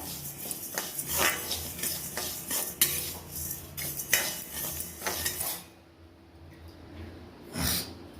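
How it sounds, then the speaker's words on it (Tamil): Moong dal dry-roasting in a pan, stirred with a metal spoon that scrapes and clinks against the pan in uneven strokes, close up, then dropping to near quiet before one last scrape. "பைத்தம்பருப்பு இதையும் நம்ம வந்து நல்லா வறுத்துக்கிடணும்"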